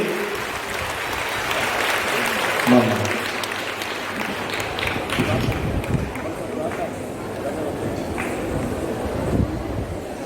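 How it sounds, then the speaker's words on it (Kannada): An audience at a Yakshagana competition gives a round of applause, a broad, dense clapping wash that stays steady for several seconds with voices mixed in. "ಚಪ್ಪಾಳೆ, ಜೋರಾದ ಕೈ ಚಪ್ಪಾಳೆ ಬರಲಿ"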